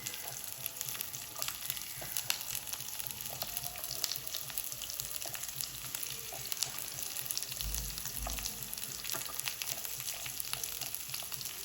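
Green chillies and onions fry in a pan for pumpkin curry, giving a continuous even sizzle with light crackles and occasional stirring, steady and fairly quiet throughout.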